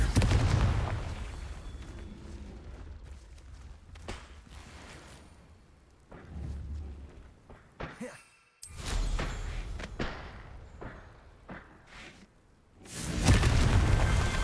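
Several booming blasts of the Confringo fire spell in Hogwarts Legacy, heavy thuds with crackling tails separated by quieter gaps, the loudest bursts near the middle and end.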